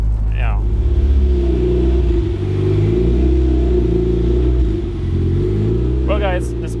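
A car with a built, high-compression turbo 1.6L engine drives slowly on its first drive, with a loud, steady, rumbling engine drone that rises and falls gently and a brief voice near the start and end.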